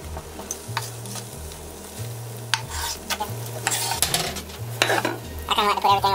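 Eggs fry in a pan for a Christmas breakfast omelette, a steady low sizzle running throughout under scattered spoon scrapes and clinks of metal against the pan, close and moderately loud.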